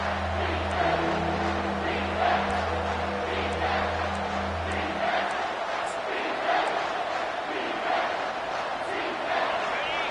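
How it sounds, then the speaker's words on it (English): Home football crowd roaring at a stadium during a college game, Oregon at Ohio State, as the defense faces third down: a loud, sustained wall of cheering, with a low engine-like rumble fading out midway. "Here comes this home crowd as the defense tries to get off the field on third down."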